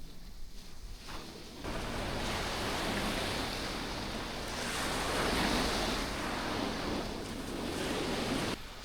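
Steady sea surf washes onto a quiet beach, a continuous broadband rush of breaking waves that swells louder after the first second and a half, with some wind buffeting the microphone and no voices.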